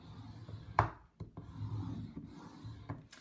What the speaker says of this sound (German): Ich falze jetzt immer von unten nach oben und zwar nur bis zu der Falzlinie.